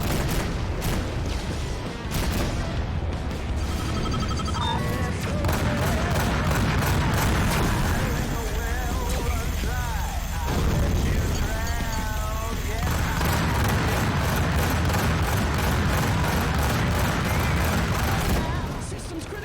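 Missile launches and explosions in the space combat game Rebel Galaxy Outlaw, a dense, loud barrage of booms and rapid gunfire-like bursts running throughout, mixed with music and game sounds.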